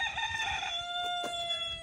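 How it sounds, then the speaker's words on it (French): A rooster crows alone at a moderate distance, one drawn-out call over steady background hum, somewhere around a house in Morocco. "juste à peine qu'on entend le coq"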